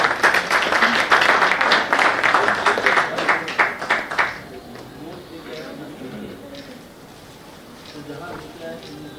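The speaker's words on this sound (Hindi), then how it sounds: "एक बार जोरदार तालियां बजाएं आप लोगों के लिए।" Audience at an All India Mushaira poetry gathering in a mayor's hall bursts into loud, dense applause for about four seconds, then it dies away to quieter room murmur and scattered sounds.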